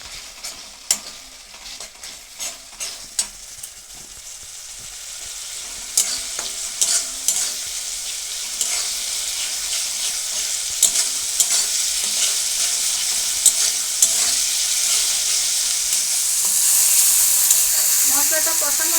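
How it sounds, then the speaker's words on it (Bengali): Chilli powder and cumin powder masala is stirred and fried in oil in a pan, with scraping spoon strokes first and a sizzle building steadily until it hisses loudly near the end. "এবার মশলাটা আমি ভালো করে কষে দেবো।"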